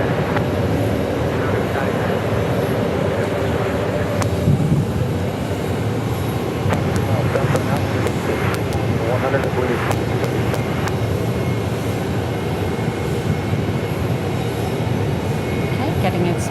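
An American Airlines Airbus A319 taxis at Phoenix Sky Harbor Airport, its engines a steady broad rumble with faint clanks and ticks, while a voice talks over it at times.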